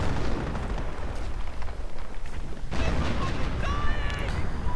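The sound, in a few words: mortar shells exploding in Company of Heroes mod, video game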